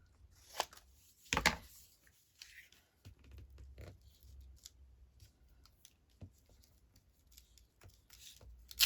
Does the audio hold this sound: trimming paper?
yes